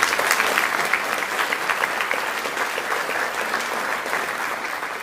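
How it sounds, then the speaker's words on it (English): Steady, full applause from an audience at the Beckman Catholic senior awards ceremony, continuous and moderately loud throughout with no voices standing out. "So please give them a round of applause."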